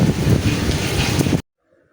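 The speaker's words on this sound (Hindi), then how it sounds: "काफ़ी दिन बाद जनाब आज बारिश आई" Rain falls with wind outdoors, a dense, steady rushing wash heard up close for over a second before cutting off abruptly into silence.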